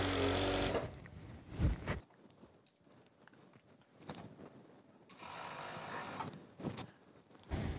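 A sewing machine runs in two close bursts of whirring while elastic is stitched into fabric, separated by quieter handling noises, soft taps and rustling of cloth.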